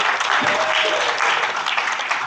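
A stage audience at the MONIN Day 2025 bartender event applauds and cheers for bartenders on stage. The clapping is dense and continuous, with crowd noise throughout.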